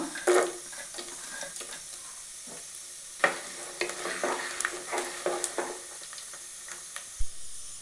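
Dried red chillies and vegetables fry in hot groundnut oil for a brinjal and tomato curry, a soft sizzle broken by scattered spatula scrapes and clinks against the pan, close and fairly quiet.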